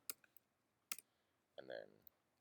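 A few quick, light keystrokes click on a computer keyboard in two short clusters, then a voice speaks briefly in a quiet room.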